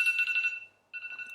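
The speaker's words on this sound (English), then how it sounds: "Lord have mercy, that was my damn alarm." An alarm rings in two bursts of bright, high, warbling tones, clear and fairly close, separated by a short silence.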